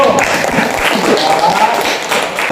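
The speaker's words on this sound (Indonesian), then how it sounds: "Tepuk tangan dulu." Classroom applause from a group of students, a steady dense patter of clapping filling the room for a couple of seconds, with voices mixed in underneath.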